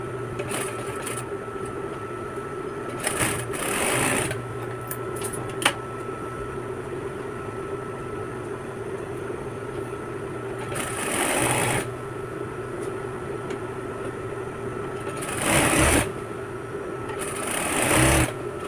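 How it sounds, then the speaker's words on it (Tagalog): A sewing machine stitches the side seams of silk pajamas in several short, rapid bursts of loud whirring separated by pauses, over a steady low background hum. "ang una kong tatahiin dyan ay sides. Sides at saka yung inseam."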